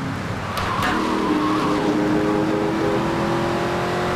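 Car in Grand Theft Auto 3 driving off with engine revving and tires skidding, a loud close engine drone with squeals rising over it, alone without talk.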